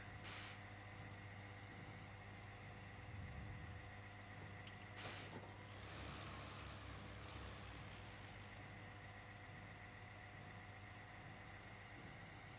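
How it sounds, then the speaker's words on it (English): Truck in the SnowRunner game at a factory site, a low steady engine drone with sharp hissing air-brake bursts near the start and middle, fairly faint, no talk. "Now I'll back up this truck out of the way"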